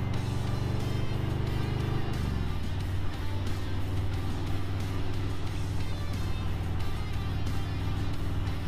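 Steady road traffic rolls past with a continuous low rumble and a shift in engine tone partway through, vehicles moving by at moderate distance with no talking.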